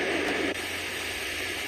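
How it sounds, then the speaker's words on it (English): Pink noise from an iDealSleep white noise sound machine hisses steadily and evenly, loud and continuous, with one faint click partway through. "pink noise"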